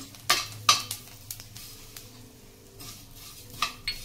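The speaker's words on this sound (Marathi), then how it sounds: "हे दोन्ही एकत्र जरा जरा परतून घ्यायचे, तिळे उडतात ना" Sesame seeds being stirred and roasted in ghee in a pan: soft scraping and a few light clinks of a spoon against metal over a faint sizzle, quiet and close.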